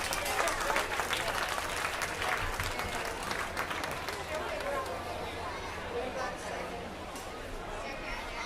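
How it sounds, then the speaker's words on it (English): Spectators at a youth swine show applaud the young exhibitors, a sustained even clatter of many hands mixed with crowd chatter throughout. "Let's give all these kids one more great big round of applause."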